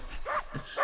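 A dog in a My Little Pony cartoon episode gives two or three short, close yips or barks in quick succession, loud and alone.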